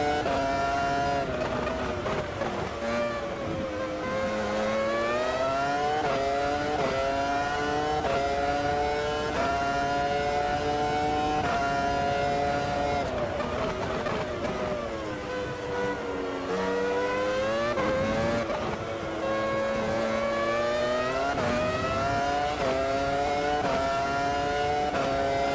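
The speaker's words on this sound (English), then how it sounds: "And now let's listen to the roar of the V10 engines." Formula 1 V10 engines in the Automobilista 2 racing game, set at San Marino 1999, scream continuously at high revs, with rising and falling pitch through gear changes, steady and loud throughout.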